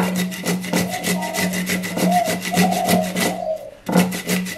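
Unpeeled potato and cucumber rubbed against a kitchen grater, a close rhythmic rasping of repeated strokes that pause briefly near the end before resuming.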